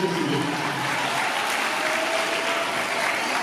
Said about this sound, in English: Okay, so let's give a round of applause.